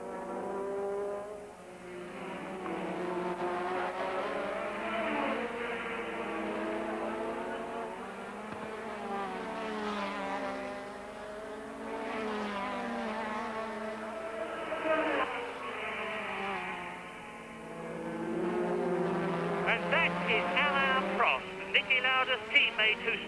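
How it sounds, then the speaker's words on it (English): Formula One cars racing at the 1984 South African Grand Prix, with engine notes rising and falling as several cars pass in turn, and a steady high whine throughout. "Piquet comes through and passes Warwick and moves up into third position."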